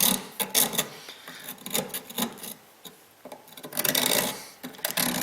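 Emery cloth scraped back and forth over the fuel filler neck of a Kia Sedona to remove corrosion, making loud, close, rhythmic gritty rasping strokes with brief pauses between bursts.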